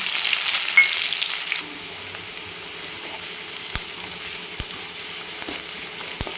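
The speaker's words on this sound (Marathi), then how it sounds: "मोहरे छान एकदम तडतड आवाज आला पाहिजे फोडणी छान बसते" Mustard seeds crackling in hot oil for a tempering, a loud hissing sizzle at first that drops after a second or two to a quieter steady fry with a few sharp pops, close by and without talk.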